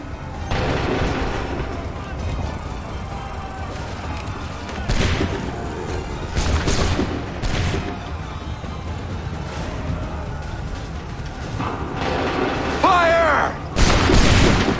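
Gunfire and cannon volleys in Assassin's Creed III, heavy booming blasts landing in uneven bursts over a continuous battle din, with a few sharp reports and shouting voices mixed in.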